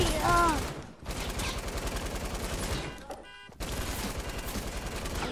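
A light machine gun firing in the video game Fortnite: loud, rapid sustained bursts of automatic fire with a short break partway through, close and continuous.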